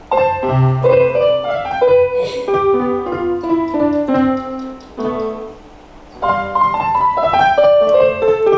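An electronic keyboard plays a slow, halting series of single notes and small chords, with short gaps between phrases and no talking.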